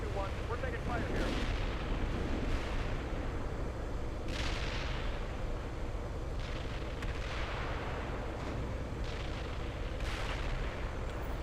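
Gunfire and artillery in the tank simulator Steel Beasts Pro PE, heavy booming impacts and bursts recurring over a constant rumbling battlefield din, with radio voices talking throughout.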